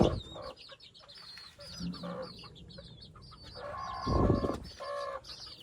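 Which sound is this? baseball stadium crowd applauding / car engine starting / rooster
rooster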